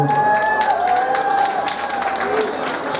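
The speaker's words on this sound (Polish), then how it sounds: "Wielkie brawa dla pani Marty, proszę bardzo." Guests at a Polish wedding, during the oczepiny games and contests, clap and cheer for a woman, the applause running steadily under held tones and voices.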